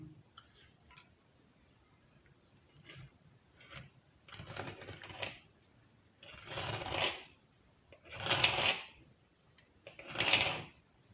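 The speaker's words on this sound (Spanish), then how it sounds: "Ahora vamos a cortar el tamo japonés. También a 1 centímetro." A 1 cm strip of Japanese ash (tamo) wood is cut in a series of rasping bursts, each lasting about a second, getting louder toward the end, with quiet gaps and small clicks between strokes.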